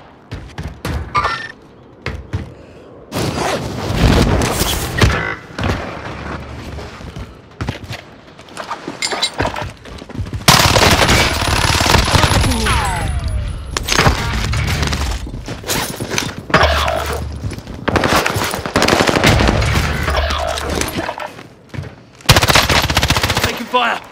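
Heavy automatic gunfire in a Call of Duty Warzone squad match on Rebirth Island, loud bursts of machine-gun fire with thuds and impacts recurring across the clip, some in long sustained stretches, with faint game voice chatter between.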